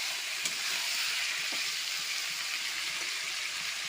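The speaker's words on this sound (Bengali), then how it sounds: "আমি মটনটা হালকা করে ভেজে নিলাম পেঁয়াজের সঙ্গে।" Mutton with onion and a ginger, garlic and green chilli paste fries loudly in a pan, a dense, even hiss of sizzling oil with faint stirring.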